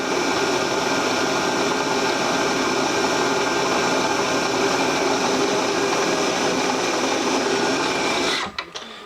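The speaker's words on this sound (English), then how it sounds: "So the first thing, we'll just drill right through it." A drill boring through a metal angle plate, giving a steady loud machine whine and grinding hum with no break for about eight seconds before it spins down at the end, close with no talking.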